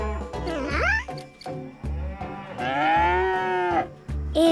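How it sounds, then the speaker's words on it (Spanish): Cows moo in long, drawn-out lowing calls, one rising and bending and another held steady, loud and close over a steady low rumble with no talking. "Ese es el sonido que hace una vaca."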